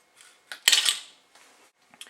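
A spoon clinks and scrapes inside a mug while flour is mixed into mug cake batter, a few quick close taps followed by softer stirring scrapes, heard alone.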